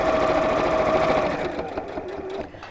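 A sewing machine stitches bias binding in a close, steady mechanical whirr. It slows and softens in the last second as the stitching winds down.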